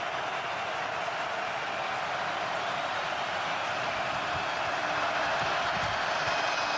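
A steady, broad roar from a stadium crowd at a UFL American football game between the Houston Roughnecks and St Louis Battlehawks, swelling slightly near the end with no clear pauses.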